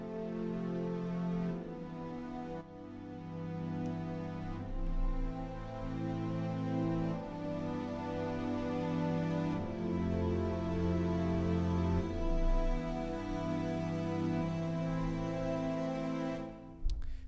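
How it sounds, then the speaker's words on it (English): Lush sustained chamber strings from the Spitfire Chamber Strings Concertino patch swell through layered chords, playing alone at an even, full level for the whole passage. "the first thing that we have is the Concertino patch from Spitfire Chamber Strings"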